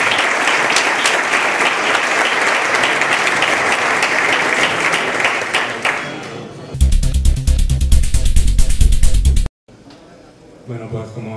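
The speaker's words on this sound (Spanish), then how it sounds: "Un aplauso." Audience applause greets a speaker stepping up at a Málaga tech event, loud steady clapping from a full room that swells into a heavier burst before cutting off, leaving a brief quieter tail.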